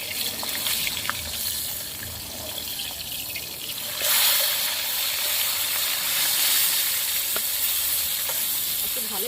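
Fish frying in a pan in a home kitchen, a steady close sizzle with scattered pops and crackles that swells briefly after the fish is turned over, with no talking.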